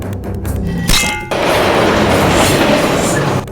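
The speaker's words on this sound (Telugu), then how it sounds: "train number 11015 DC express running out of control" A runaway express train thunders past loudly, a sharp metallic clang giving way to a sustained roaring rush of wheels and carriages close by, with no talk.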